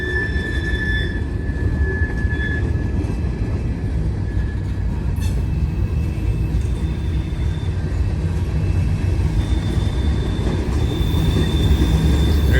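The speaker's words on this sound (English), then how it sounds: "Got some boxcars coming." A freight train of boxcars rumbles steadily past close by, heavy low rolling noise with faint wheel squeals and occasional clanks throughout.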